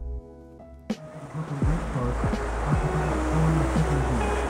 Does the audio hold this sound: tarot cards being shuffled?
no